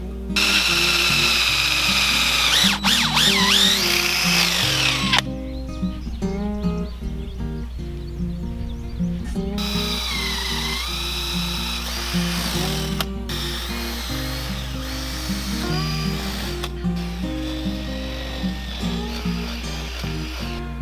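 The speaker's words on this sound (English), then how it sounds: "I'm going to drill some holes through here" A power drill bores holes through 8-foot wooden trellis posts for grape vines outdoors, the motor whirring in long continuous stretches with brief pauses and pitch changes, close and loud.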